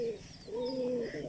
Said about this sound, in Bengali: কবুতরটা দেখো